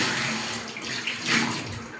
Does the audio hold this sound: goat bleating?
no